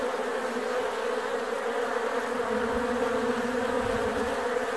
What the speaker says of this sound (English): there are definitely 100 bees clogging up trying to get into this hive right now